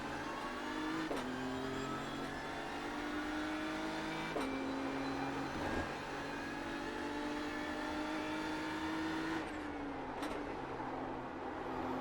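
A race car in the iRacing sim accelerating away from a slow corner, the engine climbing steadily in pitch through several gear changes, each upshift marked by a sharp dip, loud and continuous with no talking.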